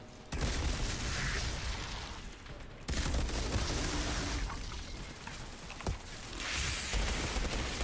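Bursts of submachine-gun fire in a video game, sustained rattling volleys with brief pauses and a few heavier booms, loud and close with no talking over it.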